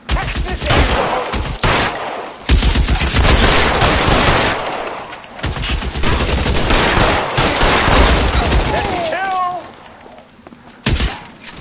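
Dense video-game gunfire in L.A. Noire, rapid loud bursts of automatic shots and volleys coming in several waves with brief gaps between them, close and punchy, with some whistling tones near the end.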